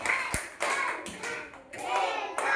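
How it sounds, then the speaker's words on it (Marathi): Schoolchildren clap their hands in a classroom, a burst of quick overlapping claps mixed with a few sharper taps and thuds, fading in and out over a couple of seconds. "एकदा जोरात तुमच्या सगळ्यांसाठी टाळ्या वाजवा बरं."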